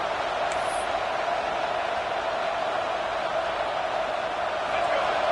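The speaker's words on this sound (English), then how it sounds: "This crowd is trying to inspire this defense to make a big red zone stop." A stadium crowd at a Florida vs. Texas football game roars as the defense faces a red zone stand, a dense, sustained wall of noise holding steady from start to finish.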